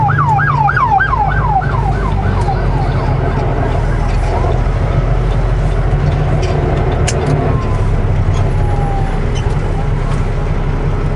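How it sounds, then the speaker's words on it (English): An ambulance siren wails in a repeating yelp pattern that fades out after a few seconds, over steady road traffic rumble and a passing vehicle. "Keep an eye out for another ambulance."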